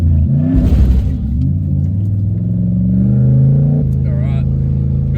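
A Toyota Cressida swapped to a 1UZ V8 rumbles loudly on a dyno. Its low engine tone climbs steadily in a rev, then drops suddenly, while people talk and react over it.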